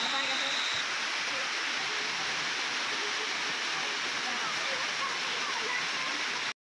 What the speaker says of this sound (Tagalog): Matagal kasing nawala tong ulan ng mga boss, kaya maapaw na yung tubig doon sa bukid.